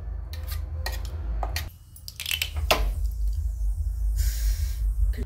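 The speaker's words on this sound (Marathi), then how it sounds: "आता आपण एक अशा प्लेटमध्ये काढून घेते" Tangy raw mango chutney scooped out into a plate, with a metal spoon clinking and scraping against the dish in several quick knocks over a low steady kitchen hum.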